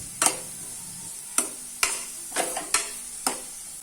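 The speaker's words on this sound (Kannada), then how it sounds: "ಇವಾಗ ಇದನ್ನು ಚೆನ್ನಾಗಿ ಫ್ರೈ ಮಾಡ್ಕೊಳ್ಬೇಕು." Chopped onions with cumin and curry leaves frying in a pan, with a faint sizzle under six sharp clacks of a spoon stirring against the pan at irregular intervals.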